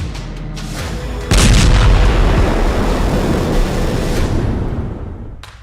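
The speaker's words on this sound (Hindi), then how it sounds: "इजराइल ने दावा किया है कि उसकी सेना ने गाजा के सुरंग नेटवर्क पर बहुत ही भीषण हवाई हमला किया है।" Heavy blast from an Israeli air strike on a Hamas tunnel network in Gaza, a loud sudden boom after faint background rumble, followed by a long roaring rumble that slowly fades, no voices.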